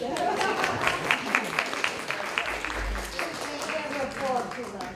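Applause from a small gathering of people after a shared meal, a scattered patter of clapping over several seconds, with people chatting throughout.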